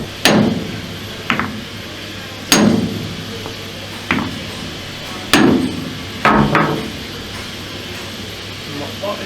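Hammer striking a nut on a WWII Grant tank road wheel in a workshop, about seven loud metallic blows at irregular spacing, some in quick pairs, ringing briefly over a low background hum.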